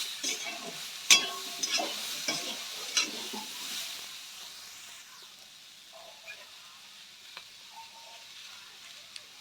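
Carrot curry is stirred in a pan with a soft sizzle. Several clinks and scrapes come early, then a quieter, fading frying hiss.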